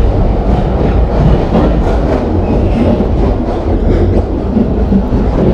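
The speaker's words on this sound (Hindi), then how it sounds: "ट्रेन प्लेटफॉर्म से निकल चुका है और हम लोग 40 का स्पीड अचीव कर लिए" Indian passenger express train pulling out of a platform in a train simulator game: steady, loud rumbling roll of wheels on track with a dense, continuous low drone throughout.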